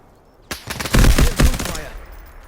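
A rapid burst of gunfire in Rainbow Six Siege, several loud overlapping shots crackling over about a second, then fading into a short echoing tail.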